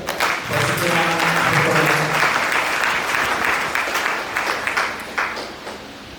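A church congregation bursts into sustained applause during a service, a dense, loud wash of clapping that holds steady for several seconds before thinning slightly near the end, with faint voices mixed in.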